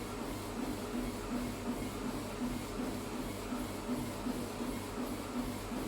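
Stunner Fitness SuperFit treadmill with a 2.25 HP motor running at 12 km/h, a quiet steady hum with a soft rhythmic thumping of the belt, continuous and even, with no voices.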